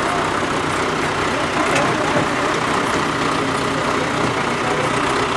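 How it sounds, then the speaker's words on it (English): Engine of a farm tractor heard from aboard while riding through an apple farm, a steady loud rumbling drone with broadband wind and road noise throughout. "we're riding on a tractor."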